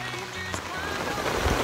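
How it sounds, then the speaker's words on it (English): Rain drums on a tarp on the Appalachian Trail during a thunderstorm, a dense close patter that swells louder toward the end, with brief faint tonal sounds early on. "wait for the rain to subside."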